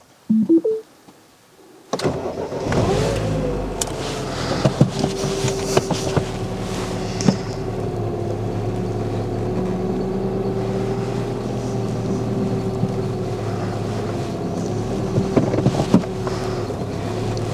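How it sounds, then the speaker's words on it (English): A Mini Cooper engine starts after a quiet moment, then rumbles steadily at close range as the car reverses and drives forward, with some shifts in pitch and occasional knocks and wind noise. "I'm just going to start up the engine, reverse the car, go forward"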